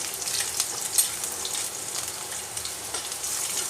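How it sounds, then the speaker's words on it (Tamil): Garlic frying in hot oil in a pan for soya chunk manchurian, a steady close crackling sizzle with small spits and pops throughout, heard alone. "வந்து நான் ஃபர்ஸ்ட் பூண்டு சேர்த்துக்கிறேன்"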